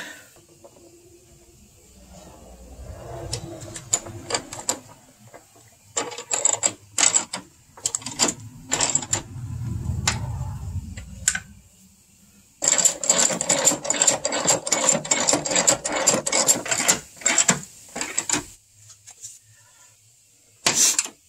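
A ratchet wrench tightens the upper engine mount bolts on a second-generation Ford Fusion 2.0 EcoBoost, giving close, crisp clicking in short irregular bursts and then a longer, steadier run of rapid clicks.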